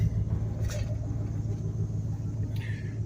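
A 1960 Chevy truck being pulled out of a barn produces a steady low rumble and mechanical drone throughout, with a couple of brief higher clanks or squeaks.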